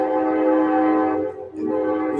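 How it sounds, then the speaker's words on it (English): A train whistle sounding outdoors, a steady harmonic tone held loud for over a second, then fading briefly before sounding again, with ambient noise around it. "And we love the train whistle."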